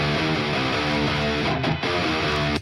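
Heavy, low-tuned distorted electric guitars in a metal arrangement of a KPop Demon Hunters song chug through a dense riff, loud and close, played alone without drums or vocals.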